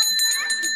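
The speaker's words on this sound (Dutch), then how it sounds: "Oh ja, die bel." A doorbell at a holiday cottage in a Brabant forest rings in a quick bright run of repeated metallic chimes, close and loud, with no one talking.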